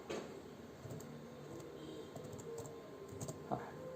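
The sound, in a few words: typing on a computer keyboard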